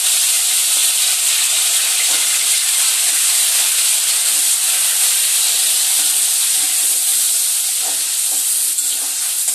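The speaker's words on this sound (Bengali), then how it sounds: "এবার ওই যে কেটে রাখা কুচি করে টমেটোগুলো কিন্তু তেলের মধ্যে দিয়ে দেবো" Chopped tomatoes hit hot oil in a pan while cooking a spicy crab curry, giving a loud, steady, close-up hiss and sizzle that runs unbroken throughout.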